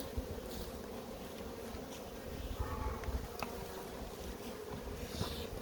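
Honeybees hum softly around apiary hives outdoors, a faint continuous drone with the occasional louder pass of a single insect near the microphone.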